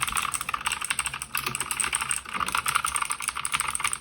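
Rapid, loud clicky typing on a Redragon Surara K582 mechanical keyboard with blue switches, a steady stream of sharp keystrokes close up with no pauses.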